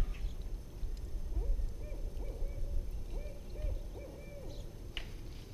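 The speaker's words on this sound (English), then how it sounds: "Resident Hoot Owl, he's been here for a long time, and it's a pair of them." A resident hoot owl calling from a magnolia tree across a street, a series of soft, low hoots in a rhythmic sequence, somewhat distant and faint above quiet backyard background noise.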